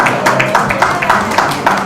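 Audience clapping at a world leaders summit, loud and dense, with regularly spaced claps standing out from a continuous crowd wash.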